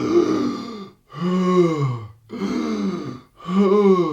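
A harmonica teacher voices four heavy, heaving breaths, imitating someone badly out of breath; each long, loud, close gasp is separated by a brief pause, with no other sound.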